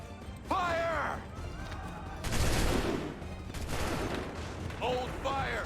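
A soldiers' musket volley in the video game Assassin's Creed 3: loud, crackling bursts of massed gunfire with a rumbling tail, mixed with shouted voices before and after.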